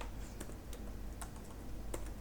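Computer keyboard typing, a handful of sparse, quiet key taps spaced irregularly over low background noise, with no voices.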